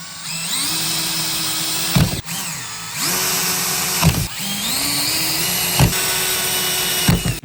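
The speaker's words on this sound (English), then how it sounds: "Now it's time to start drilling." A power drill bores into a part for a scratch-built RC car, rising to a whine in three repeated bursts, each spinning up, holding steady, then stopping with a short knock between passes, close and loud.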